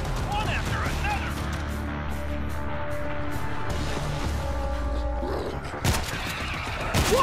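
Dense, continuous gunfire in World War Z's Jerusalem co-op mission, bursts blending into a steady close barrage with booms and mechanical clatter beneath, and voices calling out over the din.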